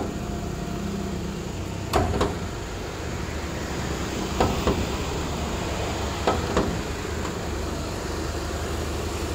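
A 2008 Japanese seven-seater car's engine idles smoothly, a steady low mechanical hum with a few light clicks and knocks over it, heard up close without speech.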